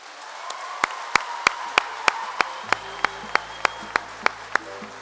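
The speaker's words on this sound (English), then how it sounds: "Please join me in one more round of applause for Miss Mandy Harvey." Applause from the audience at a state FFA convention session, a steady wash of clapping under a series of sharp, evenly spaced claps standing out near the front, with a low hum entering partway through.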